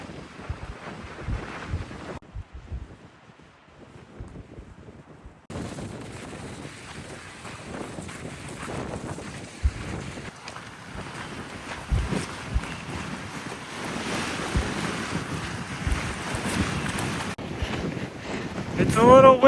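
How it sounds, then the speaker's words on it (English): Wind gusts across a mountain trail on the Pacific Crest Trail, a steady loud rumbling buffet against the microphone that grows stronger over time. "It's a little windy today."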